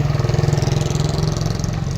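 A truck engine pulls hard in full gear, sending out a loud, close, rapidly pulsing diesel chug that keeps an even rhythm throughout.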